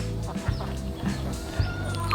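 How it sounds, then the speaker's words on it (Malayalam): Chickens cluck close by in a steady stream, with ducks mixed in among them at an enclosure with a bathing pool beside a mud house in a Thai jungle. No one speaks. "ഡക്കും കോഴികളൊക്കെ ഒന്നിച്ച് കളിക്കുന്നു"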